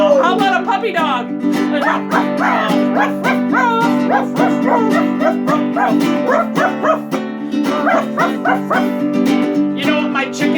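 A voice imitates a puppy dog barking, a quick run of high, yappy barks and yips repeated close and loud with hardly any pause between them.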